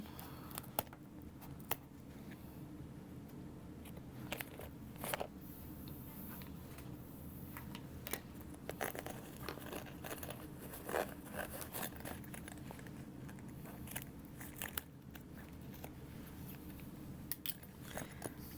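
Scissors trimming a sewn fabric seam flat on a sunglasses case made from scrap interfacing; steady, close snips and crisp cuts repeat throughout against a soft background hum, with no talk.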